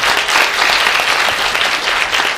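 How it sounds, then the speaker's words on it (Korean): A forum audience breaks into loud, dense applause for a professor being welcomed to the stage, a continuous wash of clapping from start to finish. "큰 박수로 환영해 주시기 바랍니다."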